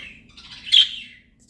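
A pet bird gives a short burst of chirps and tweets, close and fairly loud, peaking in one bright call before fading to quiet.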